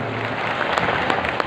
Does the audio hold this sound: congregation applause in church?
yes